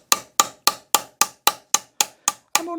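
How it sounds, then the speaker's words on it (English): A planishing hammer strikes a folded metal sheet in a steady run of ten sharp, ringing blows at an even, quick rhythm, loud and close, with no talking. "we can take our planishing hammer and hammer on this fold and make it very, very tight"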